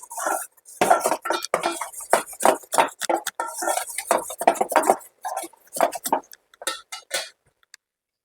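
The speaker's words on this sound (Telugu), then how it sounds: "ఇప్పుడు దీన్ని ఈ వేడివేడిగా ఉన్నదాన్ని అందులో వేసి కలిపేయాలి" A spoon stirs hot jaggery syrup into raw mango pickle in a metal vessel, giving close, irregular clinks and scrapes in quick bursts that taper off toward the end.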